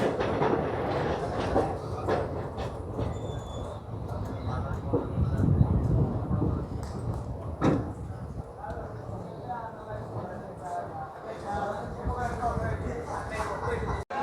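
The Kacheguda–Kottayam special train pulls into Guntur junction, a steady low rumble and rattle of rolling carriages throughout, with voices and station bustle mixed in.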